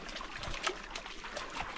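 Trickling stream water on a rocky mountaintop during a hike in Estes Park, Colorado, a faint steady babble with dogs nearby, no talk.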